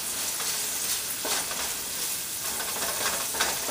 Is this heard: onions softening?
yes